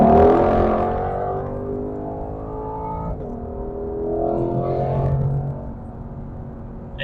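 A 2022 Ford Mustang Shelby GT500 Heritage Edition engine rumbles under light throttle while driving, a loud close V8 drone with rising and falling harmonic tones as revs shift, no voices.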